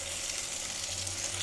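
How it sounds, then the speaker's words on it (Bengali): Dried fish, washed in hot water, sizzles and fries in a pan in a steady, close hiss that swells slightly near the end, with no talking. "শুটকিটাও ভাজা ভাজা হইতে হবে"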